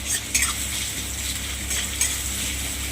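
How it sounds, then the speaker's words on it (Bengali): Onions frying in hot oil for a shrimp and pointed gourd dorma masala, a steady close sizzle with a few light clinks from a spoon against the pan, no talk. "আমি এবার কিছু পেঁয়াজ আমি এখানে ভেজে নেব দোরমার মশলাটার জন্য"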